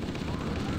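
Explosions in the Halo: Combat Evolved co-op campaign give a dense, booming rumble with gritty low-end crackle, loud and sustained through a brief moment.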